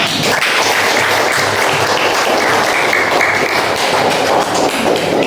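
Students clapping for a classmate in a classroom after a group presentation, loud, close, dense applause mixed with taps and thumps throughout.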